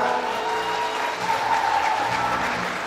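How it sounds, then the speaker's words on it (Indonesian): An audience at a parents' guidance session applauds a team called to the front, a steady wash of many hands clapping with a faint hum underneath. "tepuk tangan dong buat mereka"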